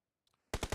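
Several loud, close gunshots fire in a quick burst of about three or four, in a battle royale video game, following a brief quiet stretch with faint movement noises.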